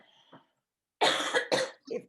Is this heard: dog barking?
no